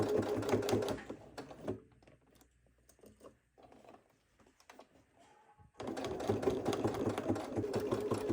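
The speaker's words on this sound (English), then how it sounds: "As I sew around the curves, I'm taking my time" A sewing machine stitches a quilted, padded laptop sleeve around curves. A steady mechanical rattle runs loud at the start, drops to quiet scattered clicks and handling noise in the middle, then resumes at full speed.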